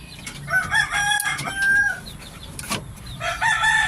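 A bulik McLean Sweater gamefowl rooster crows and clucks nearby, repeated loud calls across the clip with short pauses between them, no talking.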